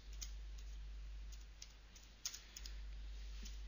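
A new name being typed on a computer keyboard: a few faint, scattered keystroke clicks over a low steady hum, with one slightly sharper tap.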